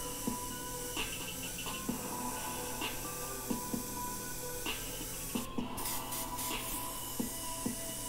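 Airbrush spraying black paint onto an angel design, a steady close hiss in light repeated passes with small clicks and brief bursts over a constant background.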